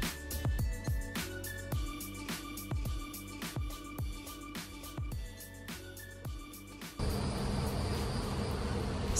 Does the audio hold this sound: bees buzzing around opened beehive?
yes